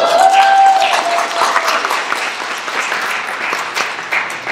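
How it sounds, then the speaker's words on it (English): Enthusiastic audience applause for a presenter at a talk, dense overlapping hand claps filling the space, loud at first and holding steady with a little crowd murmur mixed in. "Everybody give Kippy a round of applause."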